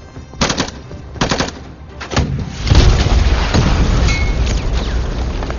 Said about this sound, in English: This tank is a really loud goddamn machine. It makes, you know, it's like a diesel engine on steroids.